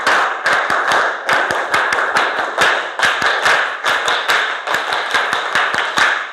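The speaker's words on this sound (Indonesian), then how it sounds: "Pak Guru minta 2 kali tepuk pramuka" A primary school class does the rhythmic scout clap twice, loud, sharp hand claps in a set patterned sequence repeated back to back, with no talking over them.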